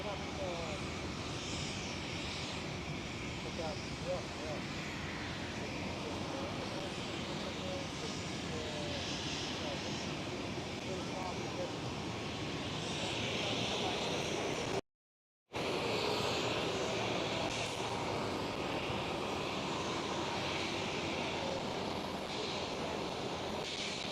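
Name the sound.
KLM Boeing 737-700 jet departing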